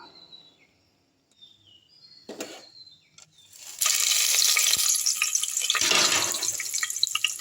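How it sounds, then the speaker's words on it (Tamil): Whole spices (cinnamon, fennel, cardamom) dropped into about 75 ml of hot oil in a pressure cooker, quiet at first with a few clatters, then a loud, sustained crackling sizzle; no talking. "ஒரு குக்கரில் ஒரு 75 மில்லி ஆயில் ஊற்றிக்கிட்டேன். இதில் பட்டை, சோம்பு, ஏலக்காய் போட்டுடலாம்."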